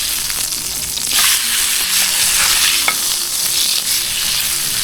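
A large piece of fish fries in a pan outdoors at night, giving a steady, loud broadband sizzle throughout with a brief crackling pop near the end and no talking.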